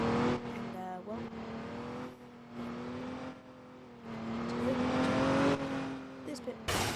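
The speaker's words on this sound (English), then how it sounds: "I'm currently driving around in a Westgate Police Department car." A Westgate Police Department car driving along, its engine droning steadily with rising and falling revs throughout, close and fairly loud.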